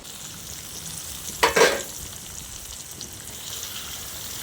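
Sardines frying in hot oil: a quiet steady sizzle with a brief louder crackling splash in the middle, then a soft continuous frying hiss.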